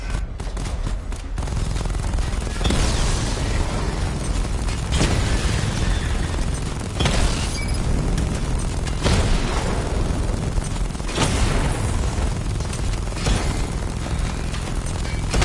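Missile barrage explosions in Batman: Arkham Knight, a loud, continuous rolling fusillade of booms with bursts every couple of seconds, dense and close, with no talk over it.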